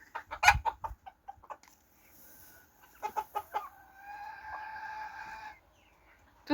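Chickens in a poultry yard in the Netherlands give bursts of clucking near the start, a run of sharper clucks midway, and a longer drawn-out call before a brief pause, all close and clear.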